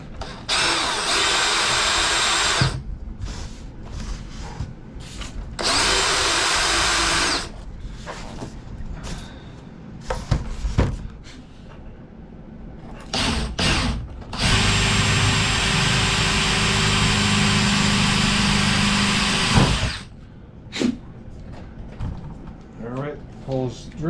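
A power drill bores holes in the wing of an F6F Hellcat model aircraft, with loud sustained whirring bursts split by pauses, handling clatter and speech in the quiet stretches.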